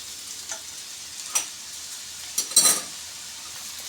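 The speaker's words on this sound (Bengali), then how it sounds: "এঁচোড়গুলো লাল লাল করে ভাজা হয়ে গেছে" Young jackfruit pieces fry in oil until reddish, with a quiet, low sizzle under scattered clinks and scrapes of a spatula against the pan.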